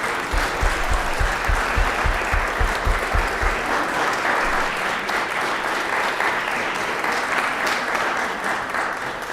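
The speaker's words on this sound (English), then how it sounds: "Give yourself a round of applause" A large crowd claps loudly and continuously during a state legislative session, the applause sustained and dense from start to finish, with a few low thumps early on.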